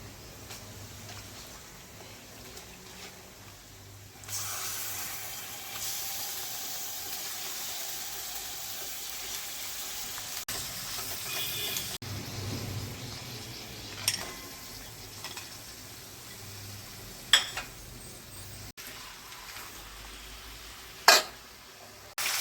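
Turtle meat being fried with deeply browned onions in a pan gives a steady sizzle throughout, with occasional sharp crackles and stirring clinks from utensils against the pan.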